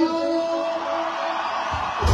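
A crowd of young people at a sonido sound system anniversary party in Toluca lets out a sustained loud scream and whoop, a dense wash of voices that swells and stays strong before ending in a booming low thump.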